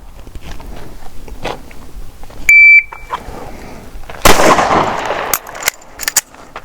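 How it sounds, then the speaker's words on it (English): A short electronic beep rings out, followed by a loud sharp bang and rustling noise with several quick clicks afterward. "Don't worry about that beep."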